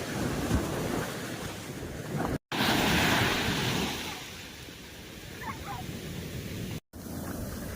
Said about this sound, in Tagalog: naririnig ko yung mga hampas ng alon